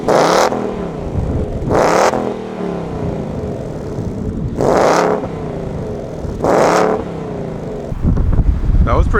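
A 2018 Ford Mustang GT with an automatic transmission is revved in bursts, four loud rising roars spaced a couple of seconds apart over idle, with wind buffeting the recording.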